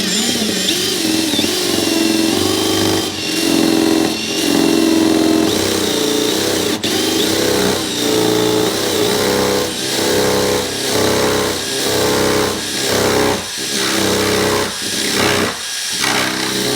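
A hammer drill runs loud and steady, close by, with rapid pulsing percussion, during repair of a loose ceramic floor tile; brief dips in the drone show short pauses between bursts.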